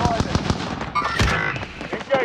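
Rapid automatic gunfire bursts crackle through a shooter video game, with sharp repeated shots, an explosion-like rumble midway, and players talking over the action.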